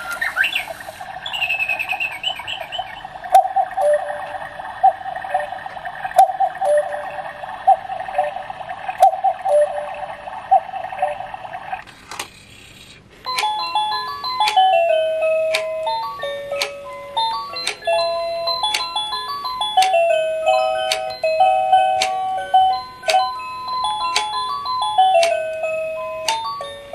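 German quartz cuckoo clock with a carved wooden woodchopper figure striking the hour: a sustained tonal call, then a bright chiming melody of stepped notes with steady ticking clicks, close and clear with no talking.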